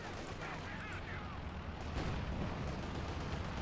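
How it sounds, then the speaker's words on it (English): Air strike from called-in air support in Company of Heroes 2, with rumbling distant explosions and scattered gunfire in a dense battle din, a heavier impact swell near the middle. "We got air support called in here by Asiamint. The first strikes here."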